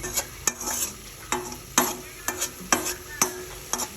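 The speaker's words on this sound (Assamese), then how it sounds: "মিহিকৈ কুটি পেলাই পিঁয়াজ, নহৰু, শুকান জলকীয়া, পাঁচফোৰণ তেলত দি দিছিলোঁ" Finely chopped onion, garlic, dried chili and panch phoron fry in oil, a soft sizzle broken by regular sharp clinks and scrapes of a spatula against the pan, close and without voices.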